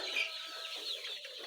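A flock of laying hens clucks and murmurs continuously, a dense chorus of overlapping close calls at a steady moderate loudness, with no speech.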